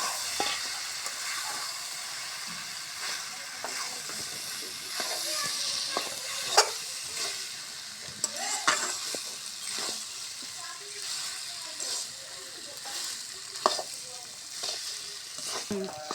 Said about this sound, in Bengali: মশলার সাথে সুন্দর করে কচুরমুখি আলু ভাজা নিচ্ছি